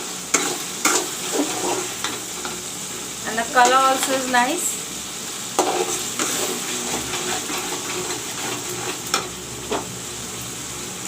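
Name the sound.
masala frying in oil for rohu fish curry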